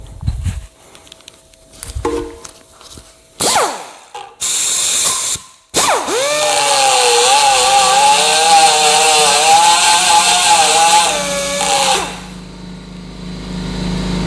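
A drill bit grinds into very hard metal during a repair for a crunching noise over bumps, a loud steady whining cut with a wavering pitch lasting about six seconds, preceded by short clanks and bursts.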